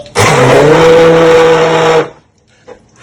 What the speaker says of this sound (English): Really fun stuff with the blender.